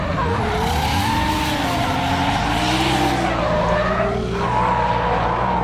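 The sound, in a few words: Nissan S13 drift car skidding and tire squeal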